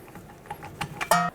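A torque wrench tightening a rear shock bolt on a 2006-2012 Ford Fusion gives a few quiet ratcheting clicks followed by one sharper metallic click near the end.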